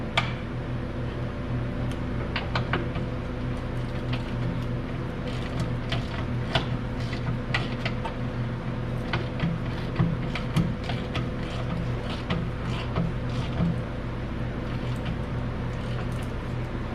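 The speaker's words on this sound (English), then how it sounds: "tightening up the control arm bolt" A ratchet tightens the 14mm control arm bolt on a 2010 Lexus IS 250 during rear strut replacement, with rapid repeated clicking and metallic mechanism noise running steadily and close throughout.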